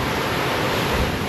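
Rough ocean waves and strong wind, gusting around 26 to 35 knots, rush steadily around a sailboat on an offshore passage from the British Virgin Islands to Panama, a loud continuous roar with no talk.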